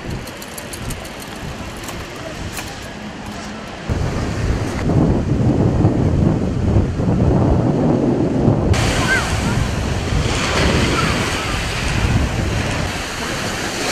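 Surf washes onto a beach in a continuous roar, heavily buffeted by wind on the microphone, louder after the opening seconds and with several abrupt shifts in tone.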